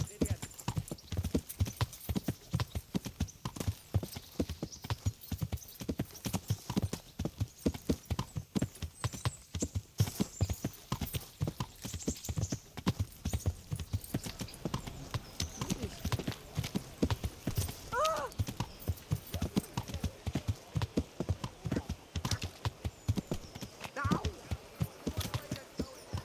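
Steady, rapid clip-clop of a horse's hooves in Kingdom Come: Deliverance, continuous and close for the whole stretch, with a faint whinny and soft game ambience underneath.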